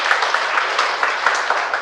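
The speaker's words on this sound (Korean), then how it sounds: "여러분 박수 한번 또 치세요." Audience clapping at a sales seminar, steady and fairly loud, with a rhythmic pulse of hands hitting in near-unison throughout the short stretch.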